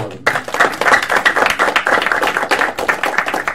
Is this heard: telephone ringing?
no